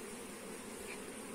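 Honey bees in an opened hive hum in a steady, dense buzz, close and continuous at low volume.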